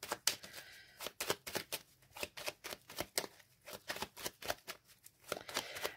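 Petit Lenormand cards are shuffled by hand, close and quiet, as a rapid series of crisp riffling and slapping bursts with short pauses between them. No one speaks.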